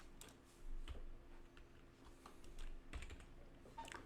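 Soft, quick keyboard typing as a file name is entered on a computer, faint clusters of taps over a low background hum.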